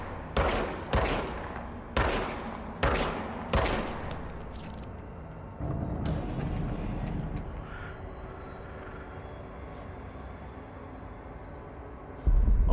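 Gunfire from a weapon in the video game Control: about five sharp, loud shots in a steady rhythm over the first few seconds, followed by a lower droning game ambience with no further shots.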